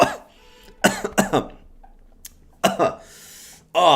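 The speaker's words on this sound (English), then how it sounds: "Oh, man, I just coughed really bad." A man coughs hard several times, rough, close-up bursts in two clusters with short pauses between, ending with another harsh cough.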